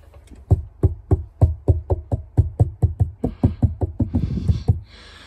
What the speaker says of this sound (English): banging the water tank.